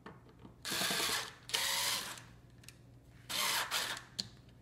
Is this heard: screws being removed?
yes